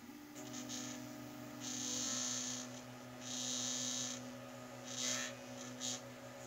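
A Sparkmaker SLA resin 3D printer hums and vibrates faintly while printing, a low steady drone with intermittent louder buzzing swells, heard close and alone.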